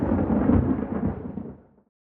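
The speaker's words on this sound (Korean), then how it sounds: "비가 오고 천둥이 쳐요." A deep, heavy roll of thunder rumbles loudly, swells, then fades out near the end. Rain falls during a thunderstorm in Busan.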